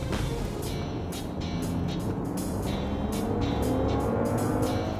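A Range Rover SUV with an inline-six engine, driven in normal mode, accelerates steadily as its engine note climbs in pitch. The engine sounds loud and continuous from inside the cabin, with road roar underneath.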